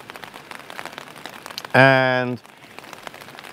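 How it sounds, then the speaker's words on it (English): Light rain patters steadily on a tarp shelter while wild camping in the Lake District, a soft continuous hiss of drops, and a voice briefly speaks over it partway through. "it's not a heavy rain, it's just a pitter-patter"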